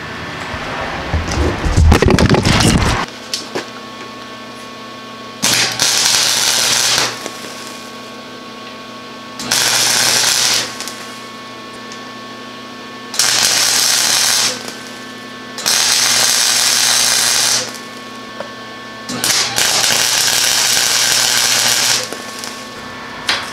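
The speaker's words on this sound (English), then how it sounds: "and then we'll weld them up." MIG-style welding of front wheels onto a lowered, cambered shopping cart frame: a harsh burst at the start, then five separate buzzing, crackling welds of a few seconds each, close and loud, with a steady hum between them.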